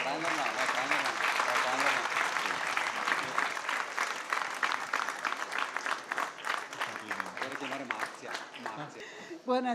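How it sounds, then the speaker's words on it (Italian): Steady applause fills a football awards gala in Vicenza, with dense clapping from a large audience continuing throughout and slowly thinning toward the end, a voice faintly over it. "un grande applauso al Marola"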